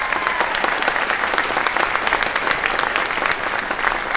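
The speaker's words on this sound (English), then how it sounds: "Big round of applause for those two." Audience applause at a school parade of bands concert, a steady, dense clatter of many hands clapping throughout, filling a large room with no break.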